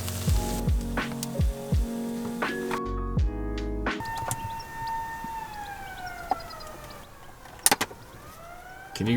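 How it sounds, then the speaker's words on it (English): A siren wails from a vineyard in the Yarra Valley, its tone rising and falling steadily after nearby cooking clatter fades out. "there is an alarm going off far in the distance. It's just a big siren."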